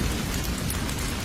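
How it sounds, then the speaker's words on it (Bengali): Rain falls steadily in a Bangla horror cartoon, a dense, even hiss of drops filling the whole moment without pause or speech. "বৃষ্টি যেন কিছুতেই থামছিল না। আর বৃষ্টির ফোঁটাগুলো বাড়তে লাগলো।"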